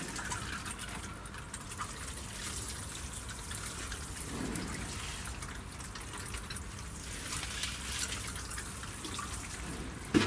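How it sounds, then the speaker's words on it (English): Water pours steadily onto compost in a garden seed-sowing setup, a continuous soft splashing and trickling with no talk over it. "what I'm doing now is just going to wet this"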